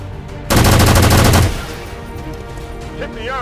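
A loud, close burst of rapid automatic fire in XCOM 2: Long War 2, lasting about a second, followed by quieter game ambience and faint soft effects.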